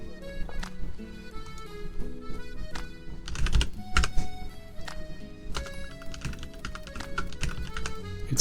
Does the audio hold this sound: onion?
no